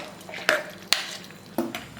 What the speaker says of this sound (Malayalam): എല്ലാം ഒന്ന് നല്ലോണം മിക്സ് ചെയ്യുക.